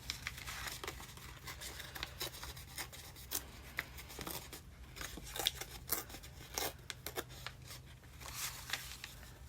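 Paper being torn by hand to make rough edges for a junk journal page, heard as irregular rasping rips and crinkles, close and fairly soft, with no speech.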